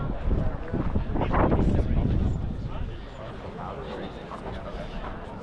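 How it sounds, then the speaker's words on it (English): Wind buffets a microphone near a doorway, a steady rumbling roar that swells early and then eases slightly, with someone talking over it throughout. "let me get away from this door so it's a little less windy"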